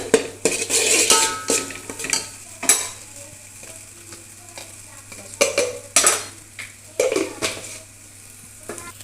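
A utensil stirs chili powder into village-style chicken curry in a pan, giving irregular scraping and clattering strokes over a low sizzle, close and fairly loud.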